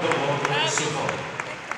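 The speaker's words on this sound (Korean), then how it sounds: "뜨거운 함성과 박수가 터져 나옵니다." Spectators applaud and cheer as figure skater Kim Yuna enters the rink, a steady wash of clapping with a few sharper claps, while a voice talks over it.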